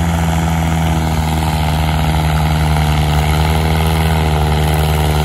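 A Mahindra 575 tractor engine in second gear pulls a soil-laden trolley, a loud, steady, unbroken drone that stays constant throughout with no voices.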